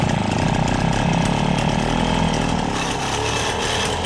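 A Motobecane 88 moped engine fires up without choke and runs steadily, a loud, buzzing two-stroke drone held close and continuous throughout, with no talk.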